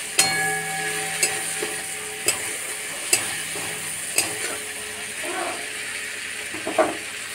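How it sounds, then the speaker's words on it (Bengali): Prawns frying in hot oil in a kadai, giving a continuous sizzle punctuated by regular clinks of a utensil stirring roughly once a second, close and steady with no talk. "ওদিকে চিংড়ি মাছটা ভাজা হচ্ছে"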